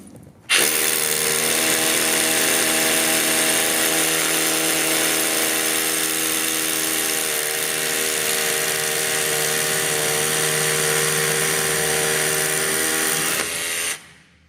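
A Festool BHC 18 Li cordless rotary hammer drills into concrete with an 8 mm bit, a loud, close, continuous hammering whine holding steady for about thirteen seconds before cutting off, with no talk.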